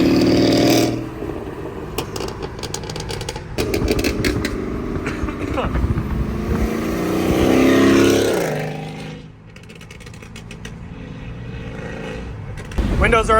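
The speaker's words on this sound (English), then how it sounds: "I'm sure he'll let off some burbles for y'all" A 2024 BMW G87 M2 driving through New York City with windows open gives deep exhaust rumbles and a rising revving surge, punctuated by rapid crackling burbles, with people talking inside the car.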